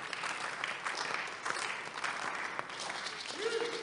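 A church congregation claps during a sermon, steady applause from a crowd filling the short stretch at moderate level.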